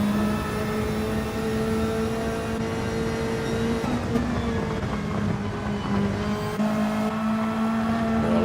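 GT500 race cars lapping Brands Hatch in a Gran Turismo video game, with a loud steady engine drone whose pitch rises and shifts with gear changes, and other cars' engines blending in.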